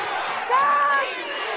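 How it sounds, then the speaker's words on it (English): A large crowd roars steadily in the stands at a Los Angeles women's American football game, with a brief whistle-like tone rising through the dense, continuous cheering. "Now the LA crowd coming to life."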